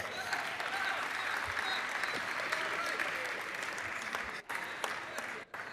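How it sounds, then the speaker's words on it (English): Audience applause in a legislative session chamber, a steady dense wash of clapping lasting throughout with two brief dips near the end. "give him a round of applause"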